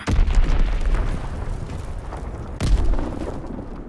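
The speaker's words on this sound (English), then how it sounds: "Dropping Azon bomb" A bomb explosion in the Call of Duty WW2 video game, a loud deep boom with rumbling tail, followed by a second heavy blast about two and a half seconds later, with no talk.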